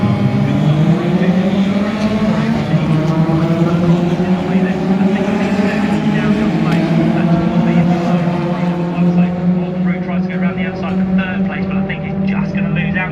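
Racing truck engines at Brands Hatch revving and rising together at the race start, a loud dense roar with climbing pitch that holds throughout, with a commentator talking over it.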